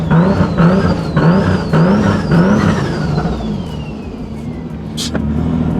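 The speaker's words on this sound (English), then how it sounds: "Listen to this car." A car with a B58 engine revs hard in several rising pulls, loud and close, then eases off as the pitch glides down, with a brief sharp noise near the end.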